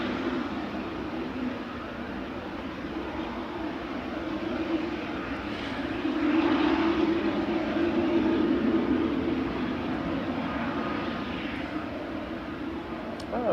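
A Boeing 777 airliner at Manchester Airport gives a steady broad engine roar that swells slightly midway, heard from a distance outdoors.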